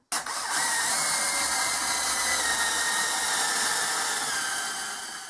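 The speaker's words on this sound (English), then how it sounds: "Let's drill some steel and compare it." A power drill runs steadily at high speed, a loud continuous whine with grinding noise as the bit cuts into mild steel, from start to finish without talk.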